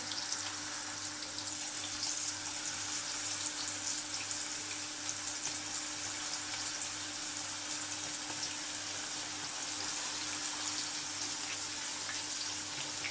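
Raw banana chips dropping into hot oil, a steady broadband sizzle of deep frying that holds even and close throughout, with faint low hum beneath and no talk.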